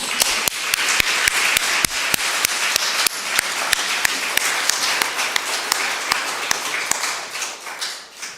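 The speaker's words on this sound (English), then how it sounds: "Well, let's have a round of applause for Stan." A church congregation gives a round of applause: steady, dense clapping from a crowd of hands, sharp individual claps standing out, lasting several seconds before starting to fade at the end.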